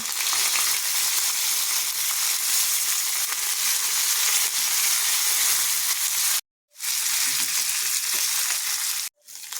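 Chana dal, asafoetida and curry leaves crackle and sizzle loudly in hot oil in a steady hiss, cutting out abruptly twice near the end, tempering for red chilli thecha.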